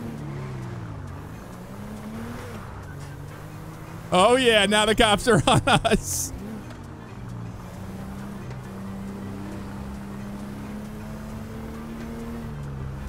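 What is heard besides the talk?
car driving in video game GTA 5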